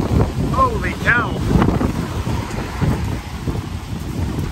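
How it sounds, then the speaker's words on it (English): Strong gusty typhoon wind in Japan roars and buffets the microphone, with rumbling low noise and a few brief whistling squeaks over it. "The wind has intensified."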